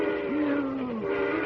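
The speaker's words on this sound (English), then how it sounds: "the eerie shriek of the train whistle suddenly blasts into his ears" A steam train whistle gives a single sustained shriek lasting under a second, rising sharply then holding a steady pitch before cutting off, over a background of rumbling rail noise and other tonal hums.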